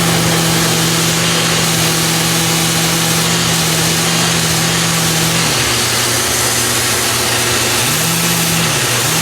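A power sander drones steadily and loudly on a guitar's wood, its pitch dipping briefly a couple of times as it comes off the wood, with no talking.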